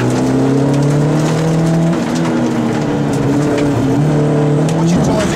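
Loud in-car rally engine of car 71 on the Agbo Stages 2013, droning steadily with gear changes and shifting pitch, wind and road roar throughout and a voice occasionally speaking over it.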